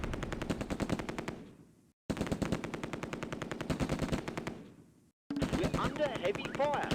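Rapid machine gun bursts in the Close Combat war game set around Operation Market Garden, three long rattling volleys separated by short silent gaps, a voice cutting in during the last.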